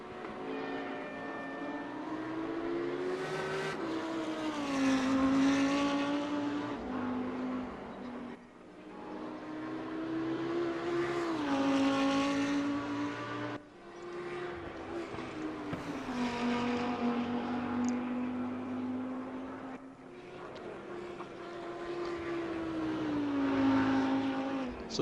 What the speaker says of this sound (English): we will come back up and have a watch at ARG Autobox as he makes a lap around